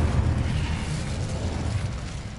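An Incendio fire spell is cast in Hogwarts Legacy. It comes through as a close, sustained roaring burst with a heavy low rumble that fades slowly over about two seconds, with no speech.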